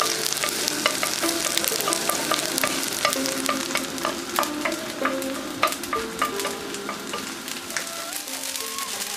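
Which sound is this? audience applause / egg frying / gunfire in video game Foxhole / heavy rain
egg frying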